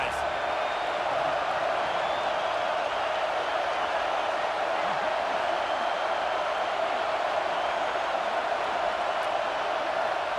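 Stadium crowd roar in a college football video game, Clemson against Michigan, a steady dense wash of fan noise held at constant loudness throughout with no breaks.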